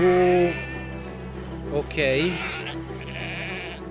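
Sheep bleating in the video game Valiant Hearts: two or three wavering bleats, the first at the start and a louder one near the middle, over faint background music, with someone talking briefly.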